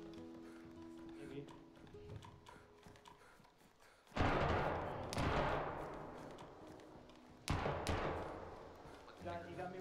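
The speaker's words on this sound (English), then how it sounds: "Is he shooting at you right now?" A few heavy gunshots from another player in DayZ crack out loudly, two big blasts with ringing decay over a busy game soundscape, with faint talk in the background.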